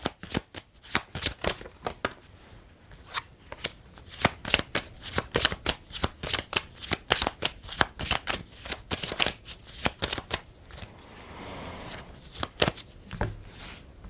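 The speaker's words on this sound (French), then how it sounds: "Donc je vais recouvrir quelques cartes." Tarot cards shuffled and laid out on a table, a long run of quick, crisp riffling and slapping sounds in an irregular rhythm, close and fairly quiet, with no talking.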